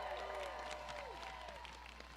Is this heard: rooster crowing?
no